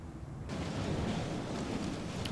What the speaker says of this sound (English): It's windy, it's cold, it's minus 115 degrees with this storm.